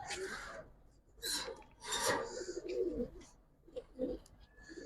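Several soft, close coos come from domestic pigeons, including a laddu-headed giribaz bird, arriving in short bursts with quiet gaps and faint scraping in between.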